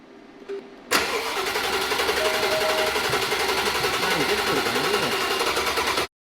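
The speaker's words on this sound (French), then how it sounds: "On n'a pas beaucoup de temps pour essayer de démarrer cette voiture avant qu'elle doive être amenée chez Aston Martin" An Aston Martin DB12 with a suspected flat battery cranks steadily for about five seconds after a short quiet lead-in, its starter churning in a fast rhythm without catching, then cuts off abruptly.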